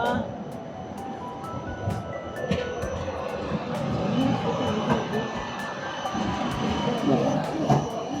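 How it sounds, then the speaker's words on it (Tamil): A tram rumbles past along a busy street near the Zytglogge clock tower, a steady rolling roar with metallic rattles and repeated clicks, while voices talk nearby. "ட்ராம் இருக்குது நம்ம ரோட்லாம் போகும்"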